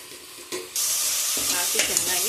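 Garam masala, coriander powder and chilli powder hit a hot pan on low flame and fry, giving a steady close sizzle with scraping stir strokes after a soft start.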